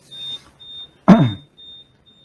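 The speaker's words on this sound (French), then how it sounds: "on l'entend biper, le Vector, pour notifier son mouvement" A Lely Vector feed-pushing robot on a farm emits a repeated high-pitched electronic beep in short regular pulses to signal its movement, interrupted once by a loud low thump or clank close by.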